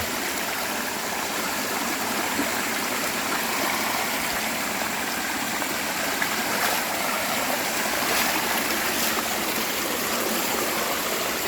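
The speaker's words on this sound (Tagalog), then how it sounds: "Ang mahalaga po yung may nadaloy na ng tubig." Water runs steadily through a rice field irrigation channel, making a continuous, even rushing sound throughout with no voices.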